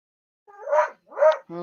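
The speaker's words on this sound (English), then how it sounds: "there must be somebody walking their dog outside." A dog barks outside, two close, separate barks in quick succession followed by the start of a third, loud and clear against silence.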